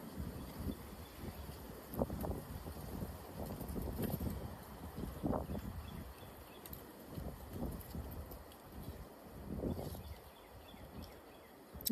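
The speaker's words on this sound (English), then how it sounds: "I was trying to wait on the wind to pass" Wind blows steadily outdoors, a continuous low rumbling buffet against the microphone that swells and eases over several seconds.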